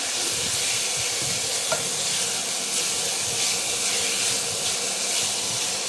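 Pork for caldereta sautés in a pan with a steady, hissing sizzle and steam, and now and then a soft stirring scrape. It stays even and close throughout, with no voices.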